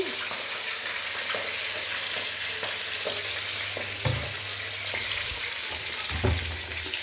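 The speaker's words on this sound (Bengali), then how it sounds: "দেখো বন্ধুরা, এই যে মাছ ভাজা হচ্ছে।" Fish frying in hot oil while a festive rice-ceremony meal is cooked, a steady dense sizzle running throughout with a couple of brief clunks of stirring or handling near the pan.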